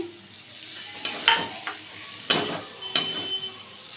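Tomato frying with turmeric in a pan, a soft sizzle broken by a few sharp clinks and scrapes of a spatula against the metal, spaced irregularly over a few seconds.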